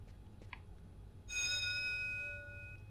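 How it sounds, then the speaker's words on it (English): An alarm bell in Fahrenheit: Indigo Prophecy rings out suddenly after quiet low hum, a bright sustained metallic tone lasting about a second before fading. "Sounds like it's actually a fucking fire alarm"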